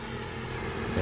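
A QAV540G multirotor drone flying past close by, a steady broadband whirring buzz of motors and propellers that holds fairly even and swells slightly at the end.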